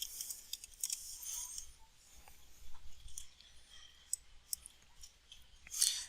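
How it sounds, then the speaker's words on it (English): A password is typed on a computer keyboard in soft, quiet bursts of clicking key presses. The taps are irregular and close, and the room is otherwise quiet. "I'll type in my password."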